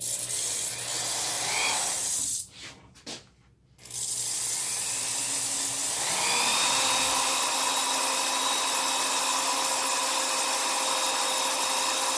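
A small drill boring a hole in the slider of a Seydel Saxony harmonica, a steady close rasping and rubbing hum that drops out briefly near the start, then resumes evenly with a faint whine.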